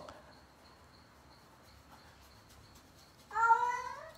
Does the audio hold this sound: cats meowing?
yes